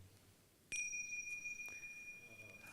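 A meditation bell is struck once, sharp and clear, then a pure ringing tone lingers and slowly fades in a quiet room.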